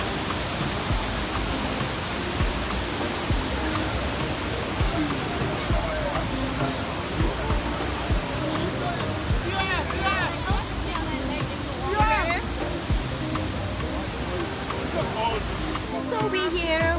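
Kpatawee waterfall in Liberia roars as a dense, steady wash of falling water, loud and continuous throughout, with faint voices and shouts surfacing partway through.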